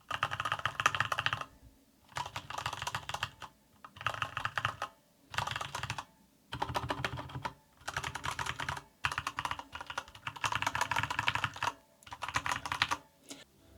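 Bursts of rapid typing on a Corsair K65 RGB Mini mechanical keyboard, clicky keystrokes in runs of a second or two, separated by short pauses, heard close up.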